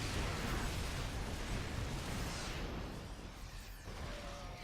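In a StarCraft II match, a siege tank is destroyed in a loud, broad explosive rumble with crackling debris that slowly fades amid ongoing battle noise.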